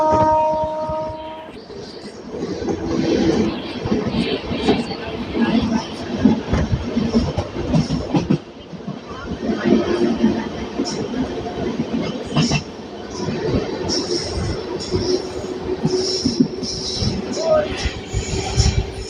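Charlapalli–Danapur Holi special train 07091 passing close by on Indian Railways track, a steady broadband rumble with rhythmic wheel clatter and metallic rattles throughout, loud and continuous, with faint voices underneath.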